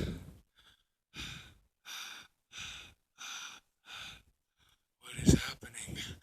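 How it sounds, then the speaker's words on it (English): A winded character pants in an anime-style fan story, a run of breathy exhales in an even rhythm, close and distinct, ending in a sharper gasping breath. "as he is panting."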